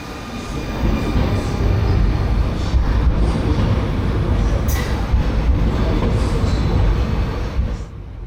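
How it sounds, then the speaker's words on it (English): New NS EuroCity Direct passenger train in yellow and blue livery pulls in from the sidings to a station platform, a steady loud rumbling roll of wheels on rails with faint squeals, no voices. "the brand new NS EuroCity Direct service, seen here arriving from the sidings just south of the station"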